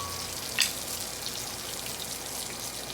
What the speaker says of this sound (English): 10 minutes or so on high for this pork steak that's been cubed up. A lot of fat rendering there.